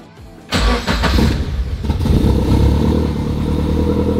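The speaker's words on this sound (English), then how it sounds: "even when I start the car." A turbocharged Subaru BRZ engine cranks and fires up close by, a sudden loud catch settling into a rough, rumbling idle with no talking.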